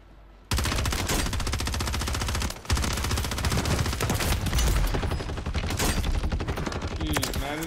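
Rapid sustained gunfire in the video game Warzone 3, loud continuous rattling shots with a brief pause partway through, heard alone without talk.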